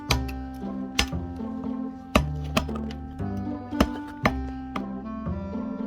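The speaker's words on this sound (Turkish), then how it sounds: "baltanın satırın ters tarafıyla şöyle kıvım kıvım parça parça biraz daha kavis tutarak bunu kopartabiliyorsunuz" Sharp wooden knocks as the back of a hatchet strikes wood at irregular intervals, several hard blows against a droning background hum.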